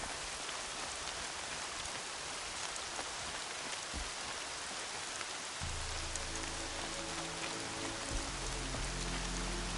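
Steady rain in the Horizon Zero Dawn game world patters evenly as a dense, continuous hiss, with a low tonal drone rising underneath partway through; no voices are heard.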